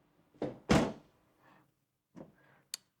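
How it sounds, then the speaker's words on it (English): A Toyota 4Runner door swings shut with a solid thunk, followed by a few softer knocks and a sharp click of the latch, close by in a quiet space. "But let's close this door."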